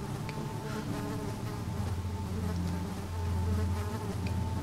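Flies buzz steadily in a dark, eerie game scene from Amnesia: The Dark Descent, a continuous droning hum with a low rumble beneath that swells slightly toward the end.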